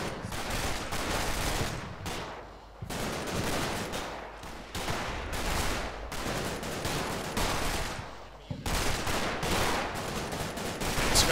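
Soldiers firing rifles and machine guns in Combat Mission: Battle for Normandy, rapid bursts of loud gunfire with brief pauses, continuous volleys close by.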